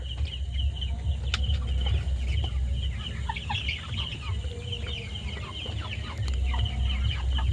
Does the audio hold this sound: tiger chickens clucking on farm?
yes